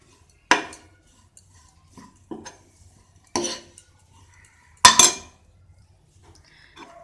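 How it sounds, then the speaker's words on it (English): Dry oats are stirred in a pan with a metal spoon, giving a few separate clinks and scrapes against the pan with quiet pauses between them. "Fry these oats till the raw flavor is gone."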